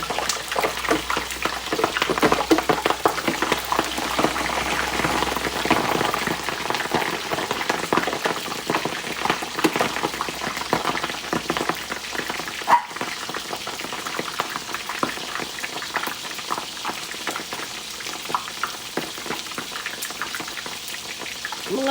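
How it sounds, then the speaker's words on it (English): Homemade fries sizzle in hot oil, a dense, loud, continuous crackle and bubbling that holds steady throughout, with a low rumble fading out early on. "So we're gonna go ahead and cook the rest of the fries."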